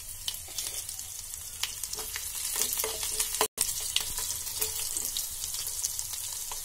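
Chopped garlic sizzles and crackles in hot oil with asafoetida, a steady frying hiss with scattered pops. It stays moderately quiet and continuous, with no voices.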